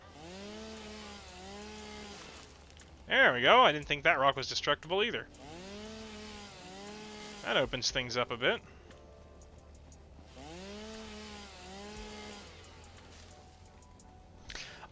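A chainsaw in a video game cuts trees while the player farms for biomass, giving two short, loud revving bursts between stretches of steady talking.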